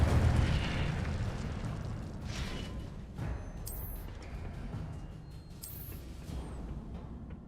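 The Incendio fire spell cast in the Hogwarts Legacy video game, a rumbling whoosh of flame that fades gradually, punctuated by two brief bright bursts partway through, with no speech.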